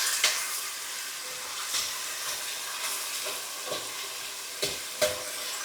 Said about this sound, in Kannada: ಸ್ವಲ್ಪ ಟೊಮೆಟೊ ಹಾಂ ಹಾಕಿ ಚೆನ್ನಾಗಿ ಹುರಿದು ಬಿಡೋದು ಒಂದು 2 ನಿಮಿಷ